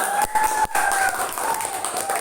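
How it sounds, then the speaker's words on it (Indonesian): A classroom group applauding a student group after their presentation, with brief scattered clapping and crowd noise mixed with murmuring voices. "Berikan tepuk tangan untuk kelompok 3."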